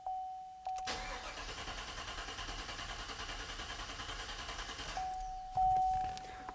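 A car engine held at wide open throttle roars loudly and steadily for about four seconds with a rhythmic pulsing, between quieter stretches where it cuts out or idles, the ignition seemingly being cut as it runs.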